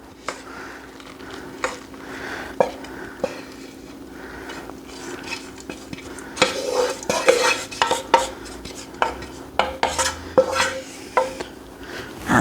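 A meat mixture is spread in a pan for a goulash meat pie, with irregular clinks and scrapes of a utensil against the pan over a faint sizzle.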